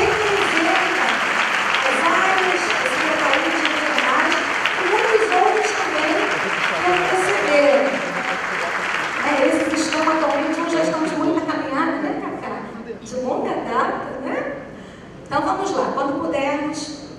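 Many hands clap in an auditorium for a group at a church tribute, sustained applause mixed with voices and musical tones, thinning and breaking up toward the end.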